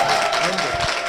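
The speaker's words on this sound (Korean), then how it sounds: "박수로 맞아주십시오." Brief applause from a church congregation welcoming a guest to the front, a dense burst of clapping filling the room.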